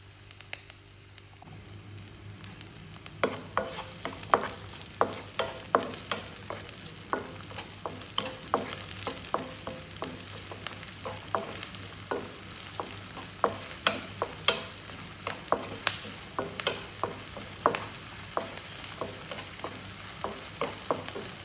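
Chopped onions with green chilli and curry leaves sizzle steadily in a hot pan while a utensil stirs and taps in a quick, irregular rhythm throughout.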